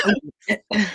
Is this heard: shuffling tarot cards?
no